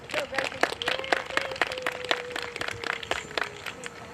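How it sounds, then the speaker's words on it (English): A crowd at a high school girls' soccer game applauds for a player, scattered sharp claps from a modest group outdoors, irregular and fairly near, with a sustained tone and some voices mixed underneath. "give a warm round of applause for Miss 24"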